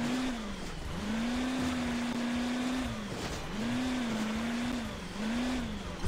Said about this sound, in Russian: Я слышу, правда, только рев мотора